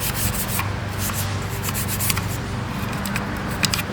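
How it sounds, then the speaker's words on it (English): A nylon brush scrubs the receiver parts of an AK-74 rifle during cleaning, making a continuous rough, scratchy rubbing with rhythmic strokes throughout and no voices. "you can get a smaller brush. Once again, nylon. And just, scrub all the parts."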